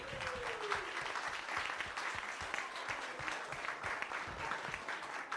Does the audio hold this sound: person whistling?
no